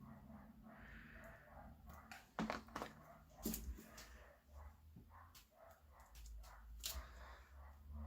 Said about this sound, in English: If you can hear the dog barking outside.